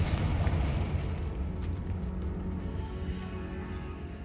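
A Confringo fire-blast spell erupts inside a tomb in Hogwarts Legacy, a loud, sustained rumbling explosion with deep low boom that rolls on and slowly fades.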